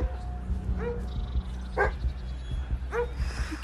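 A dog barks and yips a few times in a VR horror game about being followed, short sharp calls at a moderate distance over a low rumbling ambient drone.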